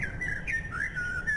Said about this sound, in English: Somebody shut these birds up!